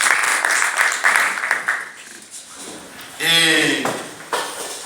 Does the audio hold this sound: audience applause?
yes